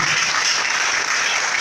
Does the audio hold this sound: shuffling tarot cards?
no